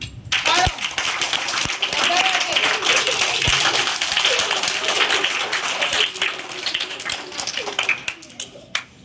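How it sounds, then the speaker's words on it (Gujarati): Girls clap loudly for the boys in a group gathering, with a busy mix of scattered and massed hand claps under lively chatter and background noise. "આજે છોકરીઓએ જોરદાર તાળીઓ બધા છોકરા માટે પાડવાનું છે"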